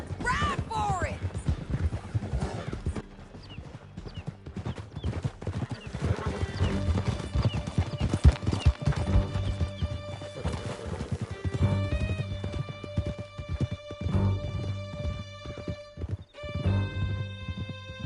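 Galloping horses in Red Dead Redemption 2, a fast, loud rhythm of hoofbeats with whinnies as riders flee through a canyon, voices shouting over the pounding and music rising toward the end.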